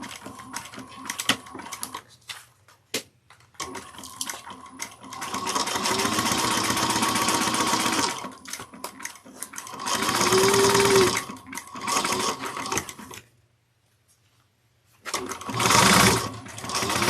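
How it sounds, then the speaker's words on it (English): Bag pieces run through a sewing machine in several bursts of rapid, close stitching, separated by short pauses and near silence. "we're going to sew these together using a 3/8 of an inch seam allowance"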